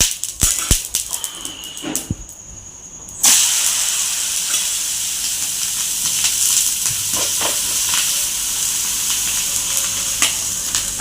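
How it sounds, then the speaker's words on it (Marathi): Oil hisses and sizzles on a hot griddle under thin thalipeeth flatbread, starting with a few clicks and taps, then a loud sudden burst of sizzling that settles into a steady crackling hiss. "तव्यावरती थोडंसं तेल टाकून घ्यायचं"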